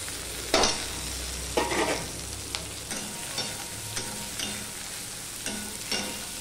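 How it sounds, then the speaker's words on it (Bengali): Tomato frying with onion and garlic, a steady sizzle broken by repeated bursts of stirring and scraping in the pan, close and fairly loud. "টমেটোটুকু দিয়েও আমি একটুখানি ভেজে নেব।"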